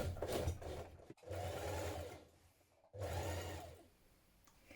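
A sewing machine stitches a coat facing in three short bursts of whirring, close and moderately quiet, each one separated by a brief stop.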